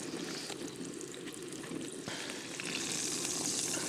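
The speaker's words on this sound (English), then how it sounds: "we have a little percolating action on our coffee here" Coffee percolating in a stovetop percolator on a winter cooking fire, a soft continuous bubbling and sizzling that grows a little louder toward the end, faint and close, no voices.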